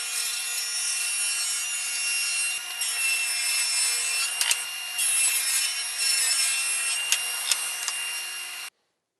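A table saw cuts through pine in a long, continuous high whine with a few short clicks and bumps, then stops abruptly.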